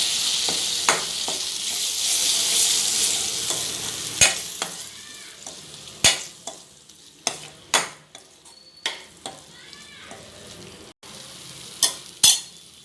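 Tomato sauce, green chilli and vinegar being stirred together in a hot frying pan for egg fried rice, giving a constant sizzle broken by sharp, repeated spatula scrapes and knocks against the pan.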